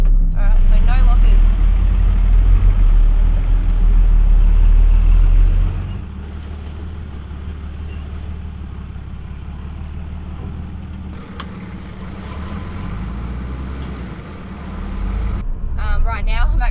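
An off-road vehicle without lockers grinds along a trail and gets stuck, its engine rumbling loudly up close before dropping to a lower, strained drone, with a person talking over it.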